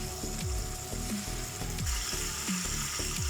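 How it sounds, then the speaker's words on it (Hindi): Chicken pieces for a palak chicken curry fry in a pan, a steady sizzle running under repeated scraping clatter of a spatula against the metal, close and continuous with no talking. "तो चिकन को हम फ्राई करते हैं।"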